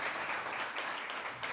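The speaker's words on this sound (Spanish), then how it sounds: "Le damos un fuerte aplauso de bienvenida" A congregation's warm round of applause at a church service, broad and steady throughout without pause, with faint crowd noise and no distinct speech.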